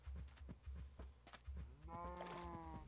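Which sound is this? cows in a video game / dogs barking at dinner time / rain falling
cows in a video game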